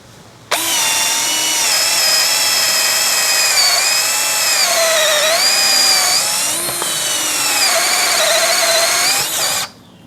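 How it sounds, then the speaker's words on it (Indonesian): A DCA ADJZ2035i cordless impact drill in plain drilling mode at speed 2 whines loudly and steadily for about nine seconds boring with an auger bit, its pitch dipping briefly under load, then stops abruptly. "Saya gunakan mode mengebor biasa, kecepatannya nomor 2."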